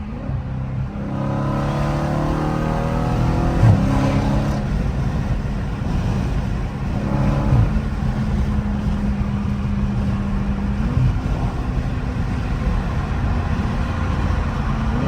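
A Dodge Challenger Scat Pack 392 cruises on a highway, its engine heard from inside as a steady low rumble, with several rising rev and shift sweeps early on before it settles into a constant drone.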